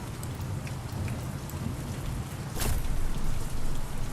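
Heavy rain in the first-person shooter Deadrop pours down as a dense, steady hiss, loud and close, with a faint low rumble underneath that swells slightly toward the end.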